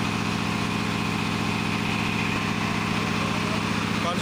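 A Jiangdong 37 HP diesel engine runs loud and steady with a constant throbbing drone, close by and unbroken throughout, while someone talks over it.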